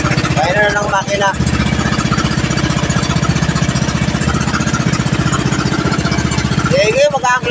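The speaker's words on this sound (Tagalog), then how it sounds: "Pahina na ng makina." A boat's motor idles low and steady up close, a continuous pulsing chug, while a man calls out short directions over it near the start and end.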